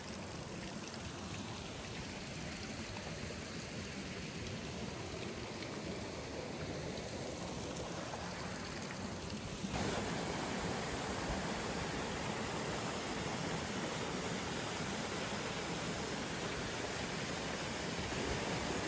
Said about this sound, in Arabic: شلال سوبينو ده من اجمل الشلالات اللي ممكن تشوفوها